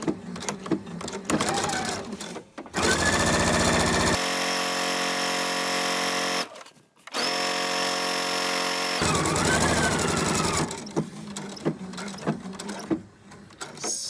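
A sewing machine runs a narrow topstitch along the outer edge of a shirt placket in Liberty fabric, sewing in steady loud bursts with brief pauses and a short stop midway.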